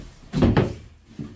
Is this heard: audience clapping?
no